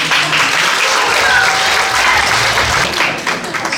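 Loud, dense applause from a seated audience welcoming the Gyeongsangbuk-do education superintendent at a regional education communication talk event, sustained for several seconds before easing slightly.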